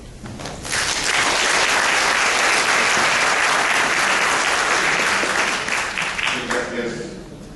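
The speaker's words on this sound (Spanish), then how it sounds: "Queremos reiterar a los señores tres expositores un fuerte aplauso." Sustained applause from the audience at a civil service regime forum, honouring three speakers, rising quickly to a loud, dense wash of clapping and then tapering off near the end.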